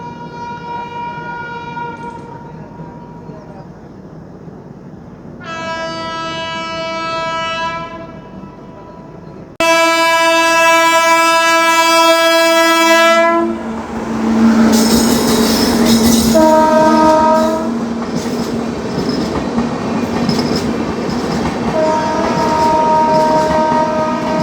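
The Secunderabad Duronto Express overtakes on an Indian railway line, with long sustained horn blasts, a loud rush of passing carriages and rumbling, clattering wheels, the horn sounding again as the train goes by.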